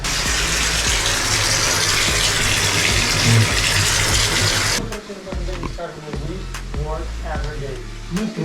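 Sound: bathtub filling with cold water

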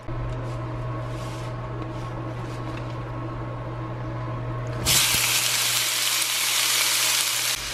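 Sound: salt and peppered shrimp sizzling in hot avocado oil skillet

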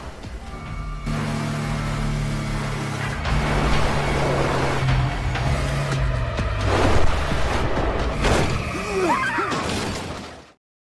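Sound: car crashing and rolling over

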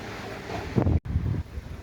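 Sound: strong wind blowing

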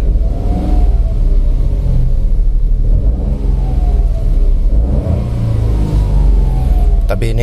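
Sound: LCGC car engine revving to high RPM

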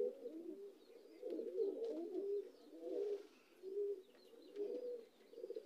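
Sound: pigeon cooing

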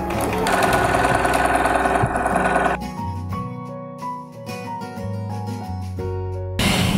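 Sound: Bernina sewing machine sewing a hood with straight stitch

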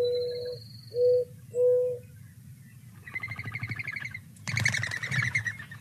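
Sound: mourning dove call and wing whistle on takeoff

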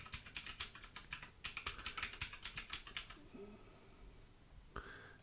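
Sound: typing a password on a computer keyboard

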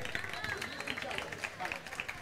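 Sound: audience applause welcoming a chef at a cooking show

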